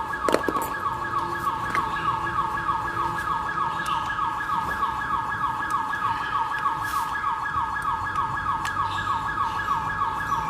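A siren wails steadily with a rapid repeating warble, loud and close, continuing without pause over faint background noise.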